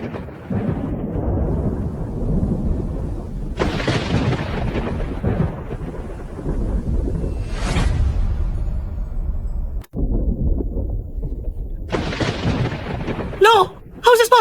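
Thunder in a TV drama series rolls and booms in long, heavy rumbles that swell loud and fade, with a sharp crack near the end, while voices talk over parts of it.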